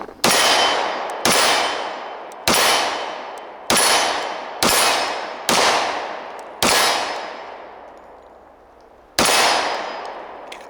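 Tisas SDS Imports D10 10mm 1911 pistol fired one-handed with stock magazines: seven loud, sharp reports at a steady pace with ringing decay, then a short pause and one more shot.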